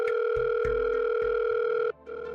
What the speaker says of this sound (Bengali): মাসি ল্যান্ডলাইন থেকে ফোন করছে কেন?